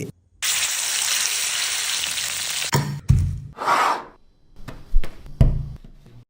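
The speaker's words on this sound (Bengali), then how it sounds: "মালিক, আমি কিন্তু সব বুঝে গিয়েছি, তুমি এখন আমাকে তেলে ফ্রাই করবে।" Chicken meat frying in hot oil gives a steady, loud sizzle for about two seconds, then breaks off into clattering taps, a brief hiss burst and knocks of utensils and pan.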